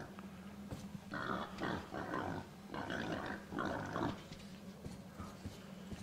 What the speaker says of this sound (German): das sind die Schweine